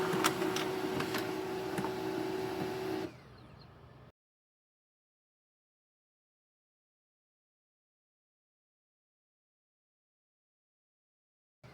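An HP LaserJet M209dw laser printer prints configuration reports, a steady mechanical whir and hum with faint ticks for about three seconds. The sound then drops to a quieter run and stops abruptly, followed by silence.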